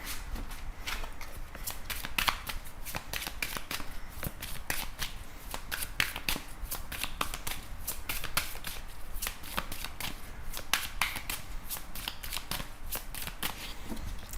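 A deck of tarot cards being shuffled by hand, a dense run of crisp riffling clicks and flicks repeating steadily throughout, close and moderately loud with no talking.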